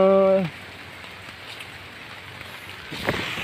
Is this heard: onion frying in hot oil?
no